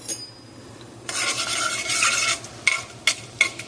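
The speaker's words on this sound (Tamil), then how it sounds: "நம்ம அதுக்குள்ளே தாளிச்சிடுவோம்." Spices for sambar are tempered in hot oil in a pan and burst into a loud, sudden sizzle after a quiet start. A spatula scrapes the pan several times while the sizzle continues.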